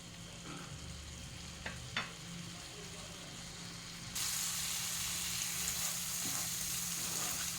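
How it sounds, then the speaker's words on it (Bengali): Spice masala for chicken being sautéed and stirred in a pan, a close continuous sizzle with a couple of sharp utensil scrapes early, then a louder, brighter hiss taking over for the rest. "ভালো করে কষিয়ে নিতে হবে। তিন থেকে 4 মিনিট কষালে হয়ে যাবে।"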